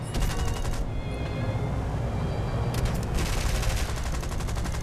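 Rapid bursts of aircraft gunfire in the War Thunder flight game, loud and dense at the start and again after a lull mid-clip, over a steady drone of engine noise.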